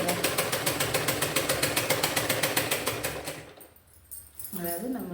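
A sewing machine stitching saree falls, running in a fast, steady mechanical rattle close by for several seconds, then stopping, after which a voice talks.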